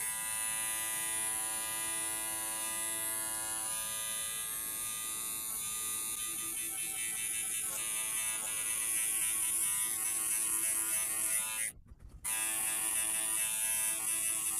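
An electric trimmer cutting a tufted rug, a steady close buzzing whine that runs almost unbroken, with a brief dropout near the end before the buzz resumes.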